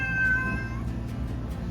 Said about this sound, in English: and a loud cat.